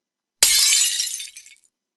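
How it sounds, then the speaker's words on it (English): A plate smashes in one sudden, bright shattering crash that rings briefly and then scatters away into silence within about a second. "A plate smashes."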